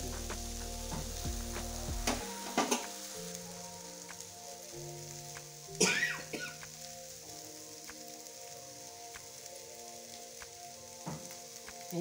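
Spices with salt and turmeric sautéing in a pan, a soft steady sizzle with a few sharp clinks and scraping stirs, quiet and close, with no speech.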